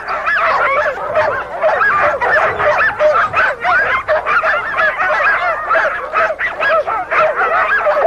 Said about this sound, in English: When they know they're going to pull a sled, they get very excited.